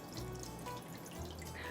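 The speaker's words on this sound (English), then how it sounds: "I'm going to add water," Water is poured into a pan to make a roughly one-inch water bath for baking cheesecake in an oven preheated to 325 degrees, heard as a soft, continuous trickle and splash at low volume.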